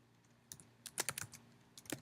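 Light, quick keystrokes on a computer keyboard, a short burst of crisp clicks close to the microphone, irregular in rhythm and heard alone with no talking.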